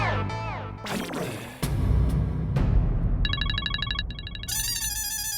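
A phone ringtone trills in a repeating electronic pattern, following a swirl of music and a crash-like thud; fairly loud and close, no talking.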